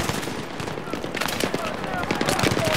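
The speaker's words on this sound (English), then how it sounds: "We're getting shot at, but from where?" Dense gunfire in the video game Battlefield 3, rapid automatic bursts and scattered shots crackling continuously at moderate loudness with a busy battlefield din behind them.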